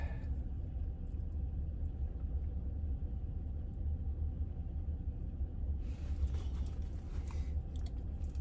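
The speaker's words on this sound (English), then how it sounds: "These are vehicle train cars" Freight train of empty vehicle-carrier cars rolling past, a steady low rumble and clatter that stays close and even throughout, with a brighter metallic rattle joining near the end.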